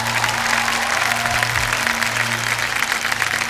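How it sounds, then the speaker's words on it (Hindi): Studio audience applause on the Hindi quiz show Kaun Banega Crorepati, a dense, steady wash of clapping that holds at even loudness throughout, with a low musical hum underneath. "एक बार फिर तालियों के साथ आपका स्वागत"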